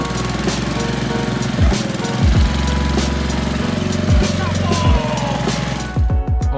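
Tractor engine chugging steadily nearby, a loud rhythmic idle with a few sharper knocks and revs, continuing throughout.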